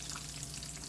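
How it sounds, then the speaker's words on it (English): Bacon crackles, sizzles and pops steadily in a skillet, a dense close-up hiss of frying fat that fills the short moment with no voices. "So we're going to let it crack, sizzle, and pop there in the skillet."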